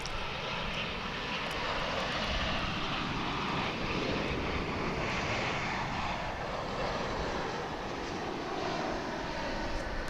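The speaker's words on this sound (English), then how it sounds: "Japan Airlines Dreamliner coming in from Narita Airport in Tokyo" A Japan Airlines Boeing Dreamliner jet coming in to land at DFW International Airport gives off a steady, loud roar of engine and rushing air that holds strong from start to finish, with no talk.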